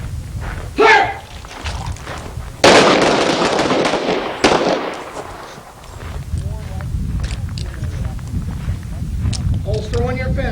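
Gunshots ring out on an outdoor shooting range during a single-headshot drill at a firearms training academy, several sharp loud reports with one big blast, amid voices talking and thuds of movement.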